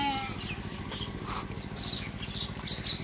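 Goats being kept for Bakra Eid Qurbani, including castrated animals, bleat in short nasal calls over a steady pulsing background hum, with no talking.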